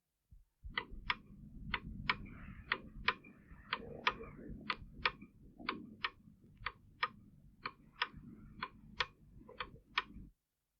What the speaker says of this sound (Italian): gli altri orologi si metteranno a fare tic-tac e a segnare di nuovo le ore